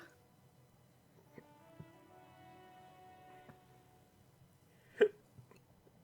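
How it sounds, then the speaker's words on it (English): A single sharp hiccup from a person, a brief close burst standing out against a quiet background with faint music. "Oh, excuse me. Hiccups."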